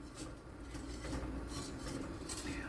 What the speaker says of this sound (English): You want to keep stirring, like every 30 seconds or so.